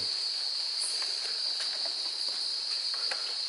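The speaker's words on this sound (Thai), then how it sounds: "ขยับปีกเนี่ยทำให้เป็นเสียงดัง" Cicada buzzing with its wings, a steady high-pitched insect drone held at one pitch through the whole stretch, moderately faint with light rustling beneath.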